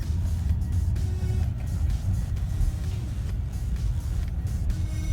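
A car drives through a large campus with courtyards and dormitories, a steady low engine rumble and road noise heard from inside the vehicle, continuous and moderately loud, with no talking.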